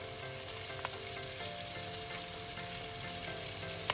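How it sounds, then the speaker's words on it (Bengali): Cut pumpkin pieces sizzle steadily in hot oil in a pan with turmeric powder, a continuous close frying hiss with faint stirring scrapes and no talk. "এবার আমি ভেজে নেব কুমড়োটা"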